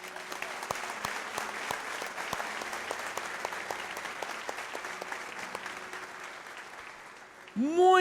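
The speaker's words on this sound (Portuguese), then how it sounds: "Você pode aplaudir Jesus?" Congregation applauding inside a church, a steady spread of clapping that runs for several seconds at moderate distance, with a voice speaking faintly beneath it before it tails off.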